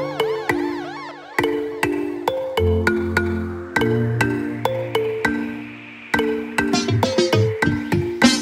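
Mobile phone ringtone sounding at three in the morning, a bright melodic electronic tune with repeated plucked and chiming notes in a steady looping rhythm, close and fairly loud, with no talking.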